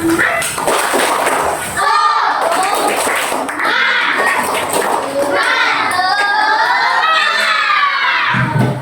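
Children chant and clap together in a classroom, a loud rhythmic group cheer with shouting voices and claps running throughout, close and energetic.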